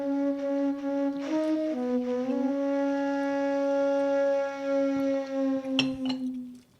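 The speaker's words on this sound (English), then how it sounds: "it's a very high quality sampled African flute" A high-quality sampled African flute phrase from the Omnisphere 2 synth plays a breathy, sustained melody of a few held notes with small pitch steps, close and clear, with no talk over it.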